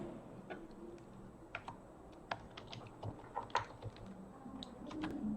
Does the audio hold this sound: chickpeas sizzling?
no